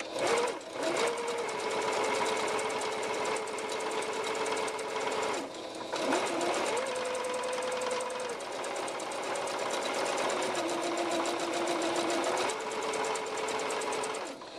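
A sewing machine stitches a zippered tote bag in long, even runs, its motor hum rising and falling between a few short pauses, close and clear with no talking.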